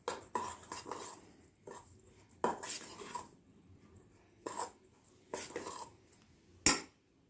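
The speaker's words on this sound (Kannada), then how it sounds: "ಇದನ್ನು ಚೆನ್ನಾಗಿ ಸಬ್ಬಕ್ಕಿನ ಇದ್ರ ಜೊತೆ ಚೆನ್ನಾಗಿ ಮಿಕ್ಸ್ ಮಾಡ್ಕೊಳ್ಳೋಣ" Soaked sago is mixed for instant idli in a kitchen bowl, a metal spoon scraping and clinking against the vessel in intermittent bursts, with a louder clank near the end and no talking.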